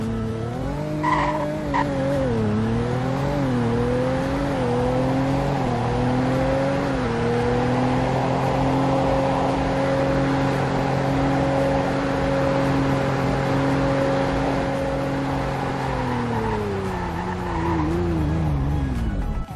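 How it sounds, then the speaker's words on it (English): A car in a video game accelerates from 0 to 100 and then brakes, its engine revving through rising gear shifts into a long steady high drone before winding down, with tire squeal near the end. "Now for a 0 to 100 in braking test."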